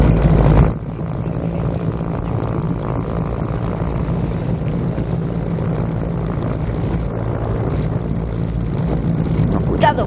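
A helicopter sets down on the deck of a ship at sea as armed men disembark, its engine and rotor making a loud, steady, close roar throughout after a brief louder burst at the start.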